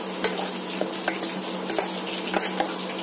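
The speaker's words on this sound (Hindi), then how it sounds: "इसमें हमने लहसुन कटा हुआ डाला, अदरक कटा हुआ डाला और इसको फिर अच्छे से चला लेंगे" Chopped garlic and ginger stirred with onion in a hot pan while cooking jackfruit curry: a continuous close sizzle with light scraping strokes at a steady pace, no talking.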